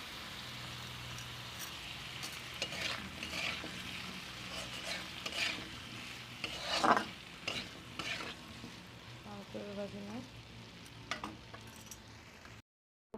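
Ridge gourd and potato frying in a pan in a village kitchen crackle and sizzle steadily, with periodic scraping stirs and a louder burst of stirring midway, and no talking.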